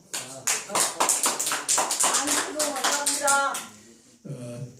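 A crowd in a church setting claps in rhythm, loud and close, with sharp repeated hand strikes for about four seconds before briefly stopping and resuming.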